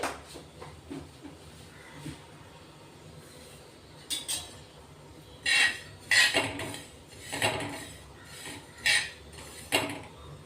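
Sesame seeds dry roasting on a hot tava, heard as intermittent metallic scraping and clinks of a spatula against the pan, growing louder and more frequent in the second half over a quiet background.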